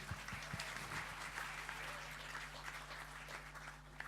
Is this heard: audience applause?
yes